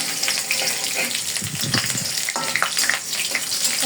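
Chopped garlic and onion fry in hot oil for a jute leaf stir-fry, giving a steady close sizzle and crackle with occasional stirring scrapes throughout.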